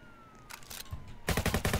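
A few scattered shots are followed by a loud, rapid burst of automatic fire in the Roblox Jailbreak game, close and dense, with no talking.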